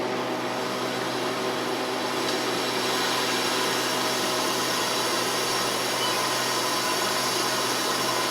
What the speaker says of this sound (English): we also have to release the air out of the freeze dryer